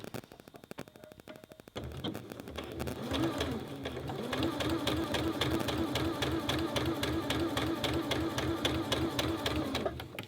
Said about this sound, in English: guide on my 1/4 inch foot to really carefully sew down this piece.